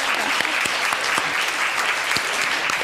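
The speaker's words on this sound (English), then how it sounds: "you can clap" An audience at an academic roundtable on museum collections breaks into loud, dense applause, continuous clapping close and sustained for the whole stretch.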